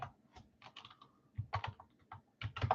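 Quiet typing on a computer keyboard, irregular clusters of soft key clicks with brief pauses between bursts.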